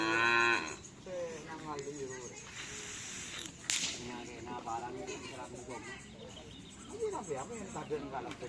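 Cattle lowing at a karapan sapi bull race training ground in Asemanis, Pamekasan, with a loud moo opening, a whip crack midway, and a busy crowd talking throughout.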